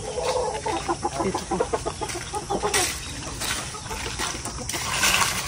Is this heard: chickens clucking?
yes